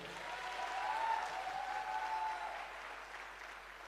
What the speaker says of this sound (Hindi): मैं चाहता हूं गुरुजी के लिए एक दमदार ताली होनी चाहिए